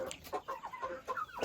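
Chickens and roosters clucking in a series of short, close calls with a rising cackle near the end, from a small backyard flock kept in the city of Oral.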